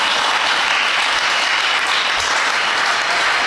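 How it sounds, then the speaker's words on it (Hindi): Audience at a Jain religious discourse breaking into loud, dense applause, a continuous roar of many hands clapping at close range that fills the whole stretch without pause. "ताली बजाओ"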